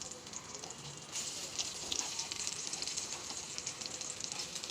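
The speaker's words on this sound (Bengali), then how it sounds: "ফ্রাই প্যানে এটাকে আমি বসিয়ে দিয়েছি" Egg with onion and green chilli fries in a frying pan, giving a steady, close sizzle with soft crackles and no pauses.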